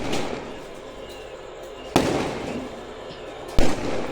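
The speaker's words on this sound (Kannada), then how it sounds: "ಇನ್ನು ಆಲ್ರೆಡಿ ಚಾಲೂ ಮಾಡ್ಯಾರ ನೋಡ್ರಿ ನಮ್ಮ ಪಟಾಕಿ ಹರ್ಸಾಕ್ರಿ" Firecrackers burst outdoors in Mudalagi during a celebration of an RCB cricket win, with two sharp, loud bangs a second and a half apart over a background of crackling and distant noise.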